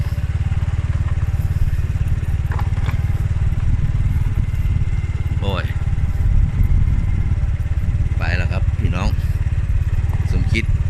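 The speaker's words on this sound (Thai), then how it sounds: "เร่งเครื่องครับ" A motorcycle engine drones loudly and continuously up close, with a brief surge in revs, while a voice speaks intermittently over it.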